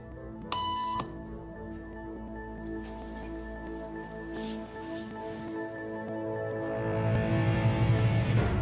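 A short electronic beep tone rings out once near the start, followed by a steady hum of background noise that swells toward the end.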